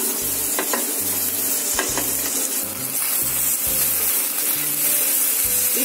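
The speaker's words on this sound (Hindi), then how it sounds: "इडली को डालने के बाद इसे एक से डेढ़ मिनट तक हम लोग फ्राई करेंगे।" Idli pieces fry in a pan with masala powder, Chinese-style idli fry, giving a continuous loud sizzle with rhythmic stirring scrapes and occasional utensil clinks against the pan.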